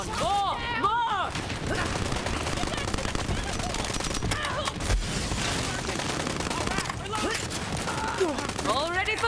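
Automatic weapons rattle in rapid bursts during a Borderlands 3 firefight, dense and continuous over game music and effects, while a player talks throughout.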